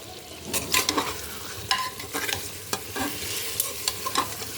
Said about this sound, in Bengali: চলুন আর একটু কষিয়ে নিই।